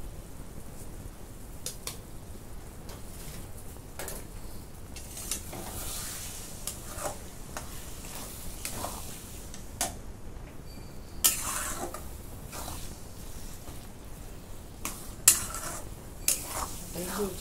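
Eggs for bhurji, five cracked and salted, stirred and scraped around a pan with a utensil, giving soft intermittent clinks and scrapes over a faint low sizzle, with no talking.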